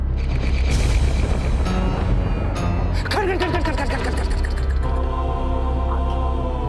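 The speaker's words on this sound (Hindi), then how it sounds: "और तभी जोरों से बिजली कड़कती है।" Thunder clap in a Hindi drama film, a loud booming crack that rumbles on over dense background sound and music with tonal layers.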